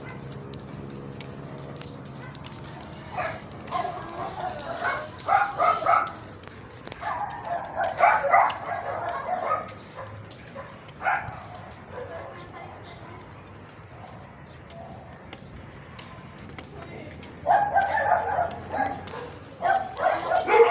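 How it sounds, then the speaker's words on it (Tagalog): Dogs bark in scattered bursts at a moderate distance. Quieter stretches fall between the bursts, and a person speaks now and then. "Ang daming aso ito"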